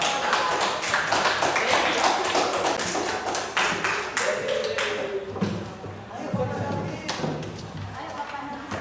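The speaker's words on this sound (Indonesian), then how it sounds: "Kasih aplaus dong." A small audience claps after a classroom presentation, with scattered, uneven hand claps and taps that thin out and then pick up again, mixed with voices talking nearby.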